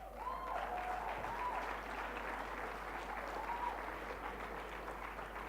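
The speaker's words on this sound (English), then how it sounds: "Big round of applause, please" An audience at a sports awards ceremony applauds an athlete with a steady wash of clapping that holds evenly for several seconds, heard faint and somewhat distant.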